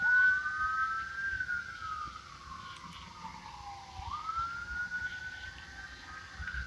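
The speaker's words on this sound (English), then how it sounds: "all the sirens, they'll be on the other side of the track probably" Emergency vehicle sirens after a CSX train struck a person wail in the distance, pitch sweeping slowly down and back up, faint over a low background rumble.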